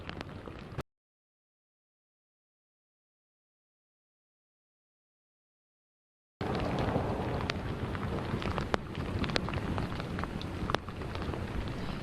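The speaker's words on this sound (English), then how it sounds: "it's raining on us. We're still seeing a lot of lightning and also thunder out here." Heavy rain and thunder during a tornado storm in Tulsa, Oklahoma: dense steady downpour with sharp cracks and rumbles, loud and close, cut by a long stretch of silence early on.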